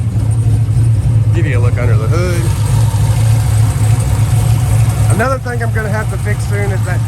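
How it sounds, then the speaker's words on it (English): A warmed-up 500hp WS6 engine idles steadily and loud with a deep, even drone, a dry-rotted belt squeaking faintly on top, while people talk over it throughout. "I'll get some idling clips so you can see what it sounds like once it's warmed up and not cold start."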